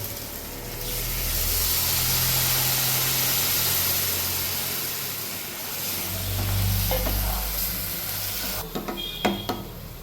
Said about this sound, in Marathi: चांगली फोडणी आता पण.